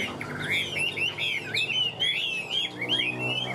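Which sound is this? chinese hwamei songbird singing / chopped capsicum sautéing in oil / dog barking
chinese hwamei songbird singing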